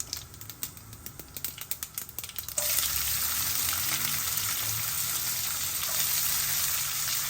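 Onions and dried red chillies frying in hot oil for a tempering, starting with sharp crackles and clicks for a couple of seconds, then swelling into a steady, loud, close sizzle with no talking.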